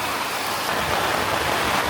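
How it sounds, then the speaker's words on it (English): Steady, heavy rain pours down in Danang, Vietnam, in a dense, even hiss, constant and close with no pauses or voices. "The rain was so heavy that water started flowing into the house."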